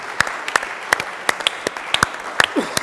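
A small audience at a conference marking a school's 10th anniversary claps sparsely, about a dozen distinct, separated claps spread unevenly over a few seconds rather than a full ovation.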